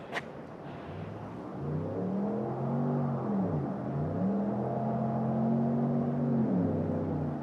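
A straight-piped Cadillac approaching along a road, its loud exhaust drone rising and falling through gear changes as it nears, steady and prominent with no talk over it.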